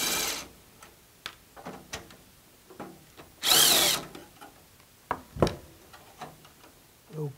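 Screws are backed out to remove a hard drive from an old computer, with two short whirring bursts from a power screwdriver. Scattered small clicks and taps of parts being handled come in between.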